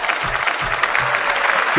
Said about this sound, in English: And let's clap that up.